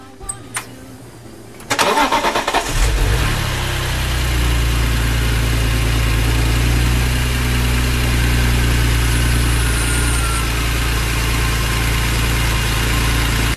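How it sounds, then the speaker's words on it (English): A BMW E36 with a swapped S54 engine cranks briefly, then catches and settles into a steady, loud, even idle that runs on with a low rumble and no talking. "So here's the video of second start on this car or engine."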